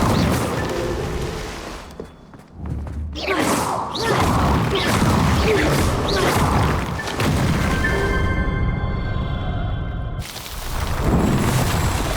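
Confringo fire spell explosions erupt in Hogwarts Legacy, loud booming blasts and crashing whooshes packed into dense, continuous game audio, with a short dip in the action before the roar resumes.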